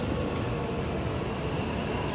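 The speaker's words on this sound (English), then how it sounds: "It sounds like you've got a train coming down." A Taipei Metro train approaches an underground platform, producing a steady, loud broadband rumble and roar that fills the station without pause.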